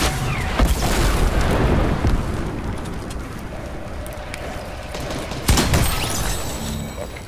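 Rocket explosions in Fortnite gameplay, heavy booming blasts rumbling over constant dense game noise, with a sharp impact near the end, loud and without talk.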